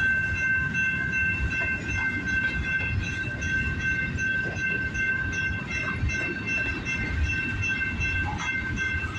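A CN freight train rolls past in Michigan with a continuous heavy rumble of railcars and steady high metallic wheel squeal, the tail end approaching near and loud.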